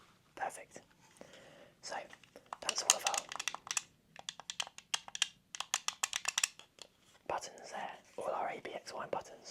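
Game controller buttons clack and tap in quick bursts of sharp, close clicks, with soft whispering between the runs.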